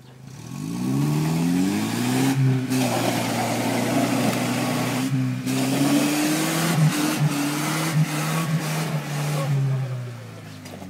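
An Opel Frontera off-road vehicle stuck in mud revs hard and sustained, its engine pitch rising and falling in long strained pulls with brief drops, while people shout and talk over it.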